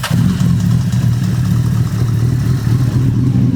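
A chrome-detailed car in perfect condition idles steadily right after a cold start, a loud, low, continuous engine rumble with a slight clatter throughout.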